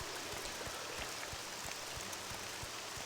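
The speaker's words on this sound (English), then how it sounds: "Still raining, alright." Steady rain falling in the Morrowind video game, a constant broadband hiss with soft patter and regular low thumps, fairly loud and continuous with no voices over it.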